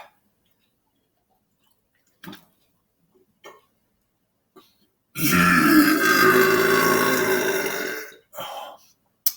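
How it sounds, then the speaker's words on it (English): One long, loud, drawn-out burp close up, after a few small clicks and mouth noises, followed by a brief shorter sound. "I'm going to burp more and louder."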